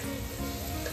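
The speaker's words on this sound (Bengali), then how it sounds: "ডিম ভাজা চলছে।" Eggs frying in a pan on a small gas stove, giving a steady, close sizzle that fills the short moment with no voices.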